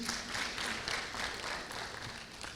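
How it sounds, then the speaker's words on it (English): A crowd applauds with steady, dense clapping heard from a distance, faint and continuous without any voices, at a school competition. "an even better round of applause for the teams on stage"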